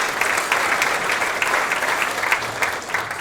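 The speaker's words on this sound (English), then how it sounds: "big round of applause for all those, what do I call it, significant others" An audience at the Victorian School Sports Awards gives steady, dense applause that continues evenly throughout, with no talk over it.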